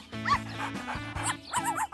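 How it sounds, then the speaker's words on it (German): A puppy stuck in the trash whimpers and yips in short high-pitched bursts, close by, with soft whines between the cries. "Oh, da wimmert ja jemand."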